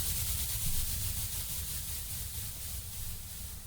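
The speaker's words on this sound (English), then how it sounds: "this is an LFO, so it increases and decreases the volume of this" A synthesized white-noise layer in an EDM DJ intro, a dense steady hiss with a deep rumbling low end that swells and dips gently in volume.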